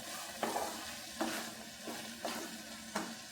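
Curry leaves frying in a pan of prawn pepper masala, stirred in about five evenly spaced bursts of sizzling and scraping over a steady background hiss, close and fairly quiet.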